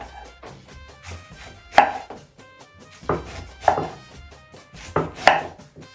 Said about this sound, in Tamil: கொஞ்சம் குட்டி குட்டி ஸ்லைஸாக கட் பண்ணுவோம்